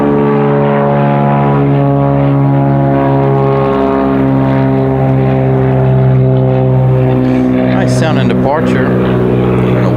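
An airplane departing Raleigh Durham International Airport: a loud, steady droning engine roar with a harmonic hum, close and constant throughout, with voices talking over it near the end.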